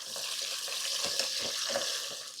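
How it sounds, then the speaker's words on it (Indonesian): Vegetables stir-fry in a hot pan with a bright, steady sizzle, broken by a few soft rhythmic scrapes and stirs, close up and with no voices. "Nih kita tumis dulu teman-teman."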